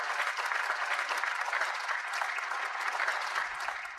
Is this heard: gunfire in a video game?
no